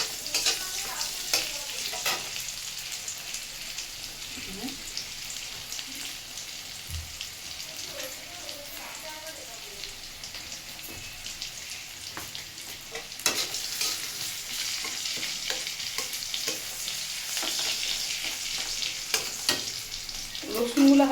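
Chopped garlic frying in a pan, a steady light sizzle with occasional stirring clinks, swelling louder in the second half, close and without talk.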